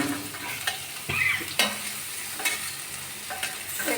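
Fried potatoes and cauliflower are tossed and stirred in a wok with spiced oil, giving a soft sizzle broken by repeated scraping and clattering strokes at an uneven rhythm, with no talking.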